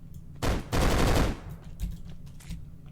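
An AK rifle in the MONSTASTROPHE game fires a short burst, then a longer rattling burst of about half a second, followed by a few fainter single shots over a low background hum.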